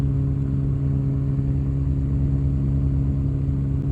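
The engine of a Quicksilver GT500 ultralight aircraft drones steadily in flight at held revs, a constant loud buzz with strong steady tones and no voices.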